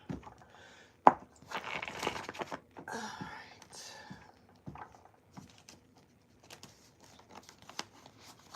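Tarot cards shuffled by hand: soft papery rustles, flicks and taps come in quiet, irregular bursts, with one sharper snap near the start and sparser handling noises afterward.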